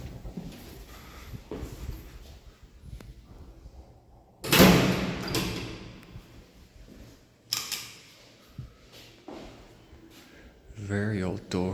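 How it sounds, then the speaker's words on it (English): A very old manual door on a Schindler elevator in a Palma de Mallorca apartment building clanks and thuds as it slides shut. A sharp bang is followed by further knocks, with someone talking over parts of it. "Very old door."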